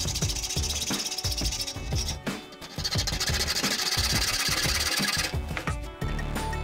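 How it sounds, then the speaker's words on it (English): A power tool cuts notches into a metal chassis brace bar with a harsh, buzzing grind in rapid bursts, briefly pausing twice before resuming, loud and close with no talking. "Now I'm going to have to cut some little notches here so that this bar will sit a little bit lower"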